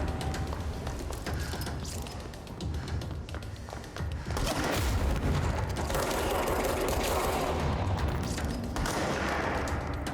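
Gunfire in the video game Control, dense bursts of shots and clattering mechanical noise running throughout, loud and busy with a heavier stretch in the second half.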